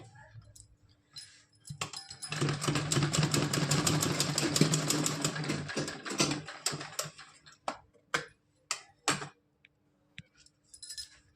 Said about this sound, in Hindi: अब इसको यहाँ पे अच्छे से लॉक कर देंगे डबल सिलाई करके